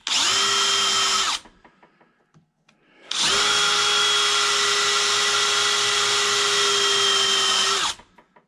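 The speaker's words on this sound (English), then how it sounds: "So we'll grab an F drill here in a little bit and we'll go after it." A power drill whines steadily drilling metal with an F drill bit on a Farmall Super C engine part, in two runs, a short one and then a longer sustained one, with a brief quiet gap between them.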